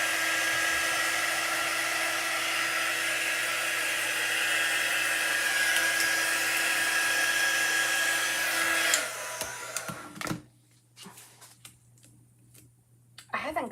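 A handheld dry tool blows a loud, steady whoosh while drying chalk paste on a silk screen, running for about nine seconds before switching off, followed by light handling noises and quiet moments.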